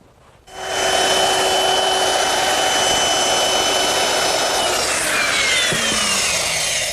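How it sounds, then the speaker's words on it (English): A router fitted with a half-inch radius round-over bit eases the edges of a wooden shelf, starting abruptly and holding a loud, steady high whine with a slight pitch drop near the end as the cut loads. "I'm using a 1/2-inch radius round over bit just to ease the edges of the shelf"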